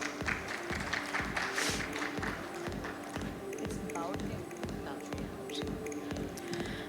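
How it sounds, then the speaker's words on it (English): Audience applause welcoming a female CEO panelist at a smart-meter and digitalization conference session, a steady dense wash of clapping with walk-on music or a rhythmic beat underneath, continuing throughout. "Let's welcome the lady with a huge round of applause"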